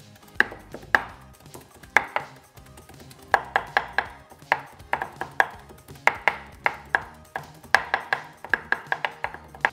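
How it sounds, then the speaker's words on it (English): Prawns being chopped and pounded into paste on a board with two knives, alternating blades and backs, a fast steady run of sharp close thuds with short pauses and no talking. "So you're cutting and pounding at the same time, maintaining the texture, yet forming the paste in the process."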